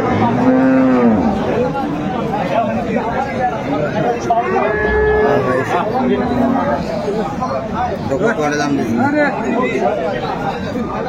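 A cow and calf mooing loudly among busy chatter from a crowd, low drawn-out calls rising over constant talk nearby.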